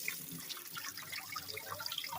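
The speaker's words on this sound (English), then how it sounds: "let's put a little water on this quickly. Excuse the mess in the sink." Tap water runs steadily over a dead-cherry wood chopping board in a kitchen sink, a continuous close splash and trickle with no talking.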